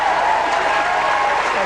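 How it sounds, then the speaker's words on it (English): A brief, steady burst of audience clapping during a touring comedy show in Scotland, dense and even, carrying on without a gap for under two seconds. "Boy, what a round of applause."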